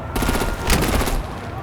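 Gunfire from artillery and weapons in the video game Batman: The Enemy Within, a loud dense burst of rapid shots and blasts that swells midway before tapering off.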